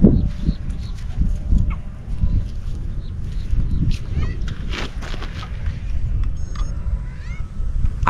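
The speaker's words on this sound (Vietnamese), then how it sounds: "Ủa, có mấy con gà nước ờ," Clucking and squawking calls of water hens over a busy, murky background outdoors in Long An, Vietnam, with people talking intermittently throughout.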